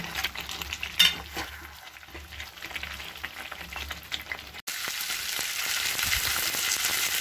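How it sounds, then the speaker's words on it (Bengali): Chicken pieces stir-frying in hot oil for a chicken curry with potatoes, a steady close sizzle with occasional scrapes and clinks of a spatula against the pan, the frying growing denser and louder in the second half. "10 মিনিট ভালো করে নাড়ানো চাড়ানোর পর মাংসের গায়ের থেকে ভালো তেল বেরিয়েছে।"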